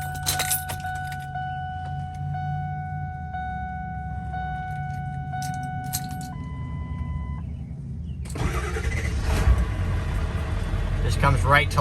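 Keys jingle and a warning chime repeats during a key cycle in a 2001 Ford F-350 Super Duty Lariat with the 7.3 engine, then the diesel cranks and catches into a loud, rough idle near the microphone.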